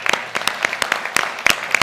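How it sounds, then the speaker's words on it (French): Applause from a municipal council audience honouring newly elected members, with sharp uneven claps rising and falling across a short burst rather than a dense roar. "Vous pouvez les applaudir très fort."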